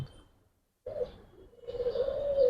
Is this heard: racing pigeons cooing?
yes